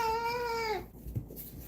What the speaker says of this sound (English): We got cat.